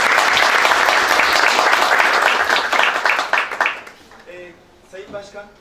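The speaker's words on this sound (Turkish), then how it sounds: "Peki belediye başkanınıza bir teşekkür alkış rica ediyorum." Loud audience applause fills a hall at a municipal ceremony, thanking the mayor, dense and steady for several seconds before thinning out as voices begin speaking over the last claps.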